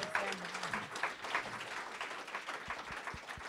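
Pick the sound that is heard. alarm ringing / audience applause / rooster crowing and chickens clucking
audience applause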